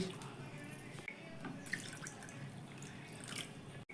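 Water poured into a bowl of semolina, a faint, steady trickle and drip with scattered small splashes and a soft clink near the end.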